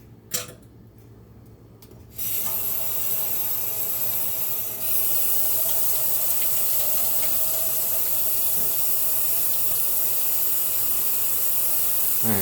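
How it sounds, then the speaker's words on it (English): Hot water gushes from a sink tap, a steady broadband hiss that starts abruptly after a quiet moment and grows louder midway, running on without pause. "now we run the hot water in the other sink"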